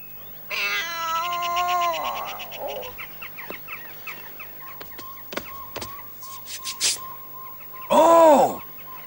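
A cat lets out a long, drawn-out meow up close, then a scatter of small clicks and taps follows. A second loud, wavering meow comes near the end.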